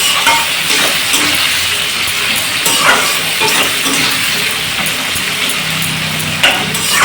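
Chicken with spices fries in a kadai, a loud, continuous sizzle with occasional light clinks of a spoon against the pan.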